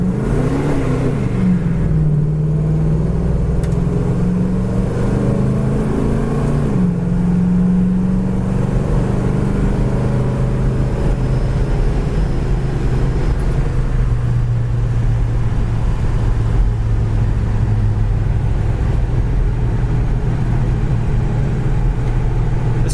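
A Baja Gold 1970 Pontiac GTO cruises on the highway at about 70 mph, its engine a steady, loud, continuous drone with shifting pitch early on and road rumble underneath, with no talk.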